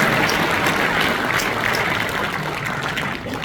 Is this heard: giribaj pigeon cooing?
no